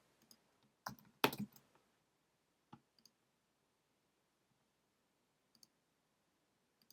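Computer mouse clicks during sensor setup in a quiet room: a quick burst of several sharp clicks near the start, then a few sparse, faint single clicks spread across the remaining seconds.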